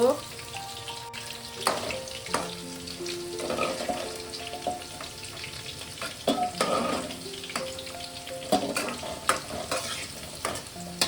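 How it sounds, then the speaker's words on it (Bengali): Potatoes sizzle frying in hot oil as a utensil stirs and scrapes the pan in irregular bursts, with faint music playing in the background. "আলুগুলো ভাজতে দিয়েছিলাম, আলুগুলো আমার ভাজা হয়ে গেছে।"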